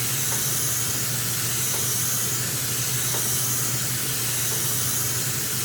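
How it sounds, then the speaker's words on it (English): Steady airbrush or spray-can hiss while paint is sprayed evenly over a model figure, continuous and close, with no talking. "a lot of people like to see people spraying paint"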